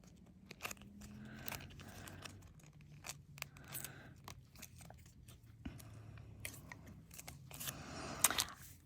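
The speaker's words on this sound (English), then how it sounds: "I think the smaller scissors work a little bit easier than bigger scissors" Small scissors snip repeatedly through thin metal tape, crisp crunching cuts in an irregular rhythm, close and fairly quiet, with no talking.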